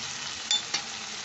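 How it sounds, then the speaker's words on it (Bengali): Chicken with spices and fried cumin being stirred in a frying pan for doi chicken, a quiet steady sizzle broken by two short scrapes of the spoon in quick succession. "এবার আমি একটু নেড়ে নিচ্ছি।"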